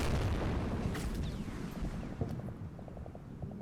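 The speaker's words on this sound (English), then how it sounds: "Large explosion." Large explosion in the video game Combat Mission: Cold War, a heavy booming blast with rumbling low-end that decays over a few seconds amid ongoing battlefield noise.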